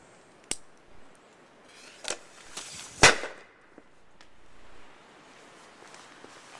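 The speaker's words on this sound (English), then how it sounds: "So we got mini paint grenade under plastic blocker." A mini paint grenade goes off beneath a plastic blocker with a sharp, loud pop. Several smaller clicks and taps come before it, and a softer rustle follows in an otherwise quiet space.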